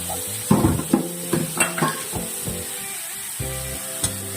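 Spoon stirring mathayila (pumpkin leaf) thoran in a pan, with a series of close scraping and clinking strokes over a steady low sizzle, several louder knocks of the utensil against the pan, no talking.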